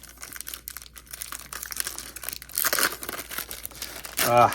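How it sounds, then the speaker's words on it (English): A 1989 baseball card pack wrapper is ripped open close by, with steady crinkling that builds into a louder tearing burst near the end, while a voice talks over part of it. "And rip this other pack of 1989."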